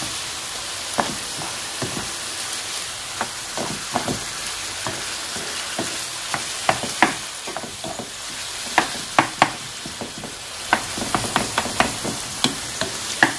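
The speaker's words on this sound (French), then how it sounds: "Donc maintenant je mélange tout ensemble." A spoon stirs a batbout vegetable filling in a pan, producing a steady run of scraping strokes that quicken into clustered clicks and scrapes toward the end, heard up close with no talking.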